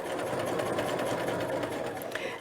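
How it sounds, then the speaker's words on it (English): A sewing machine basting the collar onto a dress (McCall's 8031) runs in one steady, close, continuous whir, alone with no talk. "So we're just going to keep this all lined up, and I am going to baste."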